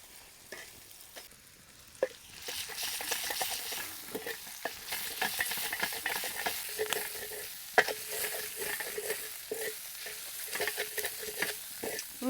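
Brinjal with green chillies and garlic greens sautéing in a pan for a village-style spicy vangyacha thecha, with a steady close sizzle and repeated scraping stirs, and no one speaking.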